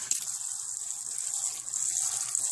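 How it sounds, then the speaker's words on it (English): Morel mushrooms rinsed under a running tap, a steady close gush of water splashing throughout with no talk. "And then we're just going to rinse these guys."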